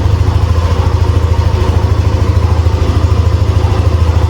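Yamaha NMAX 155 scooter (2024 V2) engine running at a steady idle, a loud, close, even low putter with a constant rumble throughout and no voices.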